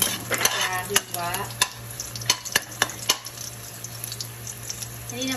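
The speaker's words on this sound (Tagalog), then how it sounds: "Igisa na natin ang ating bawang" Garlic sizzles in hot oil in a pan, with a steady frying hiss broken by repeated sharp clinks and scrapes of a utensil stirring against the metal.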